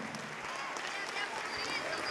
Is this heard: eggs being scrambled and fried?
no